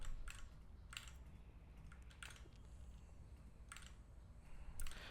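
A Keychron Q3 mechanical keyboard clicks in scattered, faint keystrokes with pauses between short bursts, quiet and close against a low background hum.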